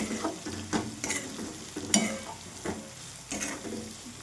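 Turmeric and red chilli powder being stirred in a frying pan for a spicy potato dish, soft sizzling with repeated scraping strokes of a spatula, close and quiet.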